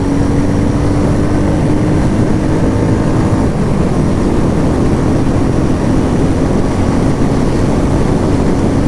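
A Royal Enfield Meteor 350 motorcycle engine at high speed, a loud, steady drone mixed with heavy wind rush, with a slight shift in pitch partway through as it keeps pulling.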